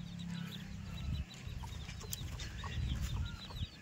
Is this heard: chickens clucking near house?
yes